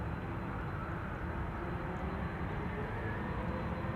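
A British Airways Airbus at Schiphol gives a steady, distant engine roar that holds at an even level throughout, with no voices.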